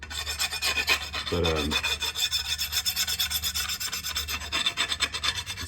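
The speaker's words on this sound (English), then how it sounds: "the sharp parts, I just touch them up with a file" A hand file rasping along the sharp edge of a lawn mower blade, with quick repeated scraping strokes in a steady rhythm, close and moderately loud, and a brief spoken word near the start.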